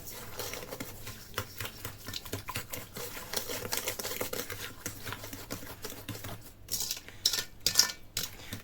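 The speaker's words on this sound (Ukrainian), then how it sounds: "все це перемішую." Paska dough ingredients being stirred by hand in a bowl make close, quiet, busy clicking and scraping of a utensil against the sides, with sporadic sharper taps toward the end.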